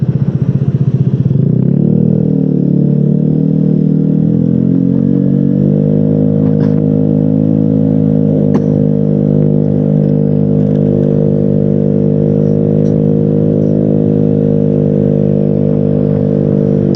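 An upgraded Vespa S125 scooter running on Pertamax Turbo fuel revs up loudly and close, then holds a steady, strong engine drone with a little clatter, alone without talk.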